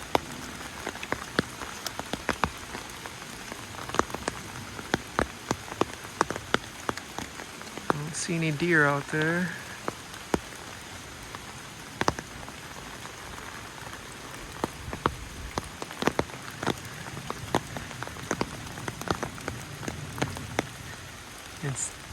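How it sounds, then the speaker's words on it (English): Persistent outdoor rainfall hisses evenly while heavier drops tick and splat at irregular moments close by; midway a person speaks briefly over the rain before the steady patter carries on alone. "It's kind of nice walking out here in the rain."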